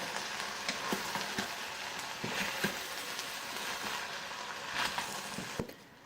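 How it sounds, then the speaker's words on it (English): Ground meat for a low-carb chili sizzling in an Instant Pot as it is stirred, a steady soft frying hiss with occasional scraping clicks of the spoon, close and fairly quiet, without talk. "we're going to add in our meat and give that a little stir"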